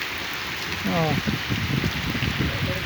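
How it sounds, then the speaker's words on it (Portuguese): Heavy rain pours down in Jucás, Ceará, a dense steady wash of sound, while someone speaks briefly over it. "maravilhoso, essa chuva."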